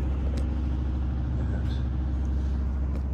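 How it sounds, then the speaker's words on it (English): A clothes dryer runs in a two-car garage, giving off a steady low rumble and hum with faint tumbling knocks. "I got the dryer going in here"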